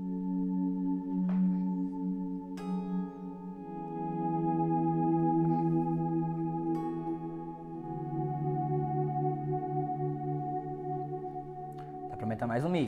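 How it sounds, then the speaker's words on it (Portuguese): Electric guitar swells through a Strymon Blue Sky reverb pedal: sustained, layered notes bloom slowly and wash into long reverb tails, with fresh swells entering every few seconds over a steady ambient bed. "Você vê como esse reverb funciona no swell"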